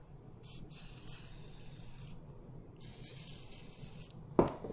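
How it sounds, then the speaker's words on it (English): CA glue activator sprays onto the glued corner of a wooden card box in two short, close, hissing bursts, followed by a brief sharp knock. "some thick CA glue, couple good dabs in there, some Type On 2, spray a little bit of the activator"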